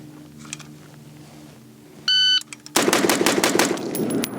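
A K9 12.5-inch rifle fires a rapid string of six gunshots after a shooting-timer beep, the sharp cracks close and loud in quick succession.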